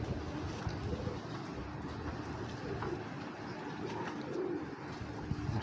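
Silver pigeons in a loft, a large male among them, with soft cooing mixed into a steady outdoor wash of wind and water ambience, moderately near and continuous throughout.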